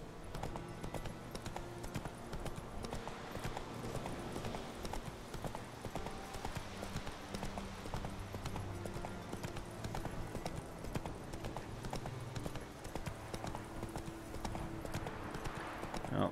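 Hooves of the horse Roach galloping in The Witcher 3 video game, a fast continuous clip-clop rhythm under game music and ambience, loud and close throughout.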